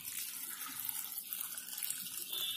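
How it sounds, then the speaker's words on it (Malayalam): Water pours steadily into a cooking pot of pachadi, a Kerala sadya dish, making a continuous splashing hiss that runs close and clear for the whole stretch with no voices. "ഇനി ഇതിലേക്ക് ഇത് വെന്ത് വരാനുള്ള വെള്ളം ഒഴിച്ചു കൊടുക്കാം"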